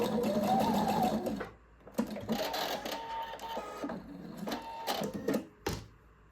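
A sewing machine stitches a seam on mesh fabric in several bursts, a steady run at first and then shorter stop-start passes with pauses between them.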